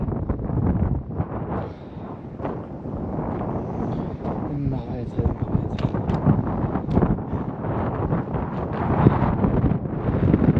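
Strong wind buffets the microphone in a steady, roaring rush on the Zugspitze mountain near the snow line, with someone talking over it throughout.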